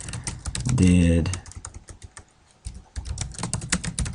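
Rapid, irregular keystrokes on a computer keyboard as a search question is typed, with close, crisp clicks running through most of the clip and pausing briefly near the middle; a voice speaks a word over the typing early on.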